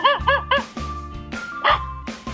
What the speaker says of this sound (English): That's how a dog sounds like.